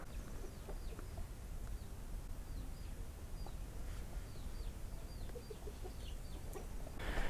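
Backyard chickens clucking on a homestead, faint scattered clucks and short calls repeating over a steady outdoor background, with no talking.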